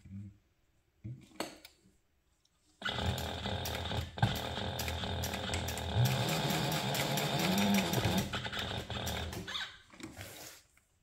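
A sewing machine stitches a basting seam on a toiletry bag, running in one steady mechanical burst of about eight seconds, close and fairly loud, with brief handling clicks before and after.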